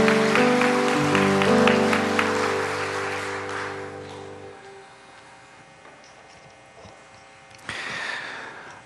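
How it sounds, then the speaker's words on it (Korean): Applause in a church congregation at a revival service, a broad wash of clapping over sustained organ or keyboard tones that fades after about four seconds, leaving a quiet hum with a brief burst near the end. "하나님께 영광의 큰 박수 올려드리겠습니다"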